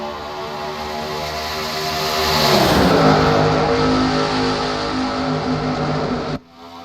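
Stock cars on the Atlanta oval accelerate hard on a race restart, a loud swelling roar of many engines that peaks as the pack passes, then cuts away abruptly at the end.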